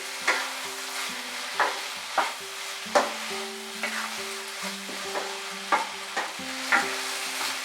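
Chilli soyabean stirred and fried with a splash of vinegar, a steady sizzle broken by rhythmic spatula scrapes and knocks against the pan roughly every half second, close and without speech.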